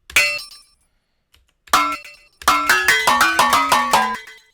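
Bright metallic synth tones from Serum ring out: a single hit, a pause, another, then a quick run of about ten clanging, pot-like notes descending and rising.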